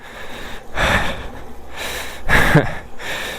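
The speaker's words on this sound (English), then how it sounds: "you can hear by my heavy breathing that it is kind of difficult" Heavy, labored breathing in loud bursts while pedaling an Engwe M20 e-bike uphill with the motor off, a few rough gasping breaths with quieter breathing between them, close to the listener.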